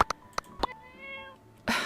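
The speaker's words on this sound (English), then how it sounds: "Oh my god, this cat is so fat!" A stray cat in the farming video game My Time at Portia meows several times in short, clear, close calls with one drawn-out meow, heard alone before a brief burst of noise.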